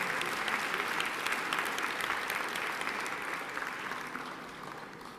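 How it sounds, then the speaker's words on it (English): An audience gives a congressman a sustained round of applause at a jazz forum, a dense wash of clapping that holds steady and then tapers slightly toward the end. "let's give the congressman another round of applause"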